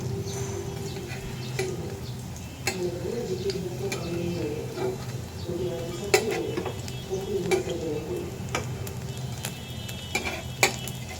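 Shrimp fritters frying in a pan are turned over, bringing a steady soft sizzle with scattered metallic scrapes and clinks of a utensil against the pan, close and moderately quiet.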